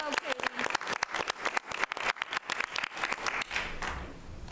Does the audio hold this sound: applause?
yes